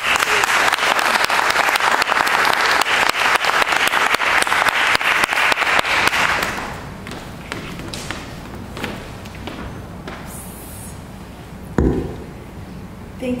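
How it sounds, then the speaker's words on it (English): An audience at an academic talk on women's resistance to Brazil's military dictatorship applauds to welcome a speaker: loud, dense clapping for about six seconds, then fading to scattered claps and room noise with a sharp thump near the end. "So that alone deserves a round of applause, but join me in welcoming Cristina"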